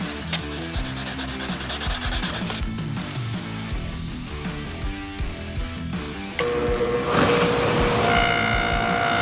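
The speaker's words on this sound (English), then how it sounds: "Now I can put this in the vise, and it should make it a lot easier for sanding." Sanding a Suzuki LTZ400 quad headlight part clamped in a vise, a steady close rasping rub with rhythmic strokes, growing louder and brighter toward the end with no talking.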